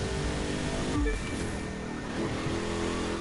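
A monster truck engine roaring in The Crew 2, a steady loud drone with a brief shift in pitch partway through, continuous and unbroken with no voices.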